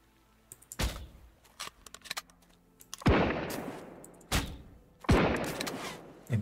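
In Sunkenland, separate gunshots crack out one at a time, each with a booming decay, about four heavy blasts and some lighter pops spread irregularly over several seconds, fairly near and with no voices.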